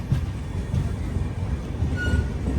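A passenger train pulls into Ajmer Junction, a steady close rumble of rolling carriages with faint rhythmic wheel clatter and a brief high squeal, heard with no talk over it.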